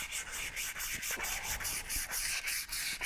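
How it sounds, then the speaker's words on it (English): Sandpaper scrubbing a Nissan Rogue brake part clean, with fast rhythmic back-and-forth rasping strokes, close and continuous. "I just take my handy dandy sandpaper here, and I'm just going to clean this right up."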